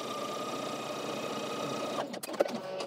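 A sewing machine running a straight stay stitch line within the seam allowance hums steadily and close up, then stops abruptly with a few small clicks and handling sounds.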